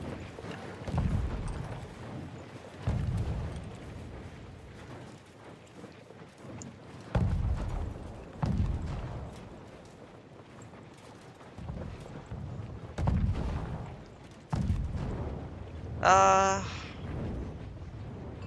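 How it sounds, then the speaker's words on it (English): Mortar fire in Conqueror's Blade lands as a series of heavy, widely spaced thumps and booms over roughly eighteen seconds, mixed with battle clatter and a brief high ringing tone near the end. "We have a little bit of mortaring right now."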